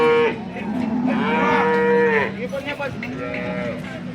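A slim-bellied cow at a cattle market in Sangola, India moos loudly and close by in several drawn-out, rising and falling calls, one long low bellow followed by shorter ones.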